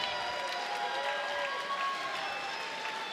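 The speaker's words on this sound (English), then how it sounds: "a round of applause for these two fighters" A crowd at a caged fighting championship gives a round of applause for two fighters, a steady, distant wash of clapping and murmuring with faint cheers, fairly quiet throughout.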